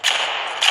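A continuous burst of explosive-bullet gunfire from the shooter game Brothers in Arms 3 rings out loud and close for under a second, with a sharper crack at each end.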